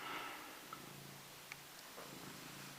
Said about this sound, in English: So you might hear her purring, she's just on my lap